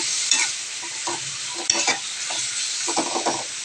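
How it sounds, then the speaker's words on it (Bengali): Fish curry ingredients are stirred in a frying pan with Kashmiri red chili, giving a steady sizzle broken by irregular scraping strokes of the spoon, close and fairly loud, with no talk. "এবার আমি এগুলোকে নাড়াচাড়া করে নিচ্ছি।"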